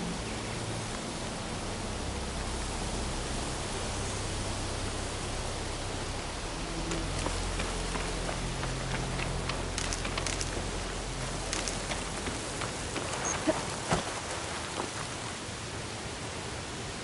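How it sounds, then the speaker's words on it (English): Steady hiss of rain falling in the video game Horizon Forbidden West, fairly loud and continuous, with a few sharper crackling drops spotted through the middle. "starting to rain."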